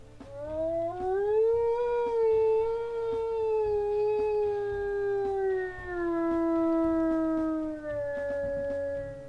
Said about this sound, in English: That is the longest howl I have ever heard